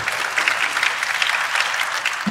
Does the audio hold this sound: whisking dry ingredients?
no